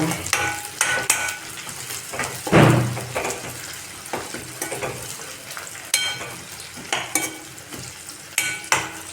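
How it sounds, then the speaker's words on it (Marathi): Green chillies sautéing in a pan for dal fry, a sizzling hiss broken by repeated scrapes and knocks of a spoon stirring against the pan, with one louder clatter early on. "त्याला चांगला परतून घेऊया आपण मिरची"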